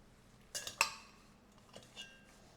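Sorrel (roselle) pulp for jam goes into a cooking pot, with two or three quick metallic clinks and scrapes of utensil against pot close by, then quiet with a couple of faint knocks.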